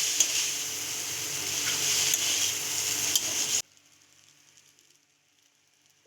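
Boiled Maggi noodles being stir-fried with vegetables in a pan, a loud steady sizzle with scraping stirs for a few seconds that suddenly drops away to near silence.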